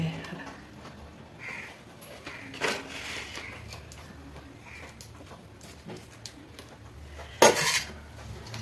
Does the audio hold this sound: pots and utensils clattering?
yes